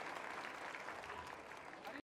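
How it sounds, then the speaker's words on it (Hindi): A crowd applauding steadily for a couple of seconds at a Kolkata Shahu community jubilee celebration in Mahajati Sadan, fairly distant and even, cutting off abruptly at the end. "एक बार जोरदार तालियों से उनका स्वागत"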